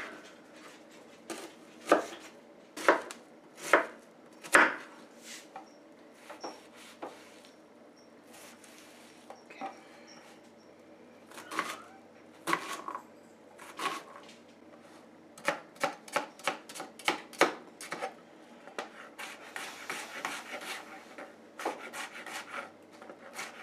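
An onion being chopped with a knife for a Caesar chicken and hashbrown casserole, heard as near, irregular bursts of sharp cuts against a board, clustered quickly toward the end.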